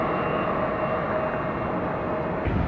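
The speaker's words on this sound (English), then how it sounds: "Air down, wing up, airplane up, over the trees." An airplane taking off over the trees near Atlanta Hartsfield airport, a steady broad roar of engines that holds loud and even throughout, with no voices.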